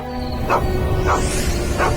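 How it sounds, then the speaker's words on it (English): A dog barks frantically, three evenly spaced barks about half a second apart over a loud, steady background rumble, heard without talk. "Suddenly, the dog started to go crazy, barking frantically."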